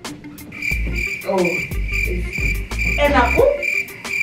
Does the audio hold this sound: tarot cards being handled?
no